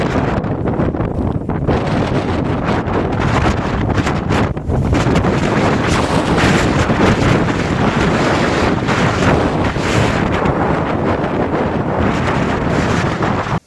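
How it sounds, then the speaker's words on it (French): Strong Arctic wind at Pyramiden, Svalbard roars and buffets the microphone continuously, a loud, rushing gusty noise with no voices. "C'est le vent."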